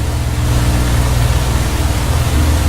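A Spitfire Mk 1/Mk 2 piston aircraft engine runs steadily in the FSX flight simulator, a loud, dense, continuous drone and roar with no voices over it.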